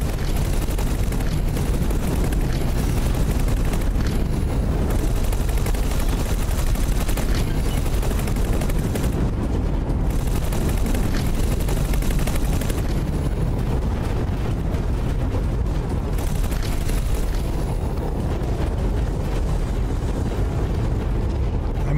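Flak turrets firing in the space game X4 Foundations, a sustained loud barrage of rapid, overlapping bursts with rumbling booms, continuous for the whole stretch and unbroken by talk.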